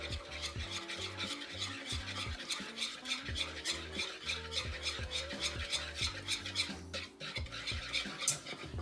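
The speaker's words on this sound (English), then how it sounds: "Mix all that up in there together." A spoon stirs garlic powder seasoning for a fish stick recipe in a bowl, a continuous rhythmic scraping and clinking close up, with no talking.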